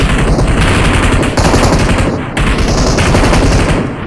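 Uzi submachine gun fire in PUBG Mobile, loud sustained rapid automatic bursts filling the sound, with a short pause before another long burst, close and dominant.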